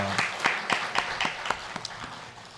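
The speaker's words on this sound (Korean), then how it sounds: "우리 감사의 박수, 영광의 박수 한번 올려드리겠습니다" A church congregation claps during a Sunday worship service, with distinct, evenly spaced claps in a brisk rhythm that gradually softens and thins toward the end.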